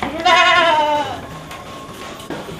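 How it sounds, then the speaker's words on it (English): A goat on a farm in Salatiga, Java, Indonesia lets out one loud, close, wavering bleat, followed by quieter background noise and a brief faint second call near the end. "Goats will end up, we get milk from them, we get cheese"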